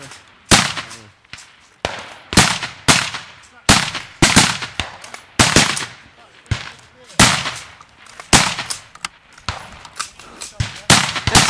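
Rifles fire during a school Combined Cadet Force exercise: a steady series of sharp, loud cracks, one roughly every half second, continuing without a break.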